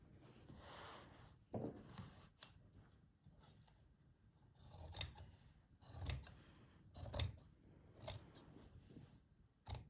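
Scissors cut fabric for a hand-stitched slow-stitch journal, close and quiet, with a series of crisp snips and soft rustles of cloth between them.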